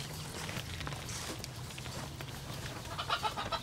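Chickens on a farm cluck intermittently at a moderate distance, soft clucks that grow busier and brighter toward the end over low background noise.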